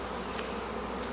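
Honey bees buzz around a hive frame during varroa mite monitoring, a dense, continuous drone of many insects close by, with no talking.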